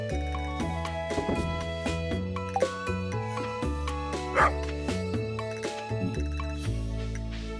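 Dog barking in the farming video game Stardew Valley, short yips heard a few times over the steady, cheerful game music that fills the clip.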